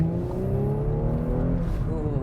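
A 2023 Audi S4 with a 3-liter turbocharged V6 and 8-speed automatic accelerates, its engine note rising steadily in pitch, loud and close from inside the car with no talk.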